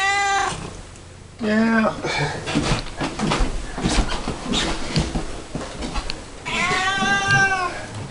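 A house cat meows loudly and close by, in a few drawn-out cries at the start and again near the end, with people talking in between.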